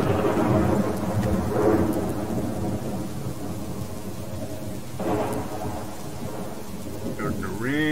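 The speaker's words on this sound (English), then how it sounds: "Starting to rain." Rain and rolling thunder in the survival game Subsistence: a steady wash of rainfall runs throughout while deep rumbles swell near the start and again around the middle, with a brief tonal sweep near the end.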